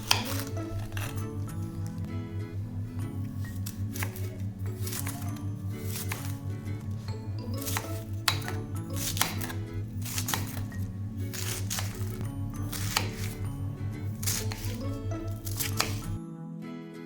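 A knife chops purple cabbage on a board in quick, steady strokes, many crisp close cuts in a regular rhythm over a low constant hum, stopping abruptly at the end.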